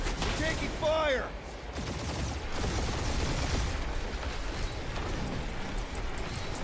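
Gunfire in Marvel's Guardians of the Galaxy comes as scattered, moderately loud shots in a busy combat mix, with a brief whooshing effect near the start.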